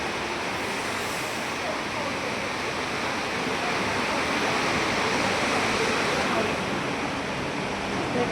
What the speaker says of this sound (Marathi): तुफान पाऊस आहे, एकदम तुफानमध्ये पाऊस आहे